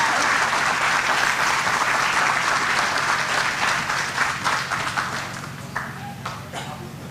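An audience at a high school senior awards night applauds award recipients, dense clapping that fills the room and gradually thins out toward the end, with a few scattered claps lingering.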